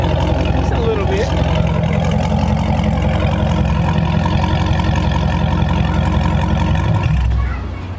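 A Dodge Scat Pack with a loud exhaust idles close by in a steady, deep, rumbling drone that holds for several seconds and then drops slightly in level near the end.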